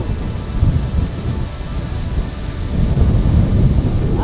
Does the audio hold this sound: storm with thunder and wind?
yes